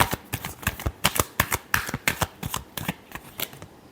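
A deck of tarot cards being shuffled up close, with a rapid run of crisp riffling snaps and slaps in an irregular rhythm, heard alone without talk.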